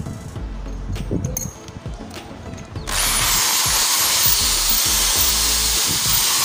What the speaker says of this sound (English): To fix your pool on concrete, you need a concrete drilling machine.